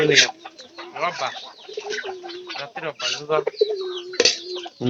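A chicken clucks close by in a rural yard, giving repeated short, choppy calls while a person talks over and between them.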